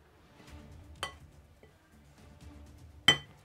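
Flour and salt are stirred in a bowl, giving quiet soft rustling broken by two sharp clinks of a utensil against the bowl, close and sparse, no talking.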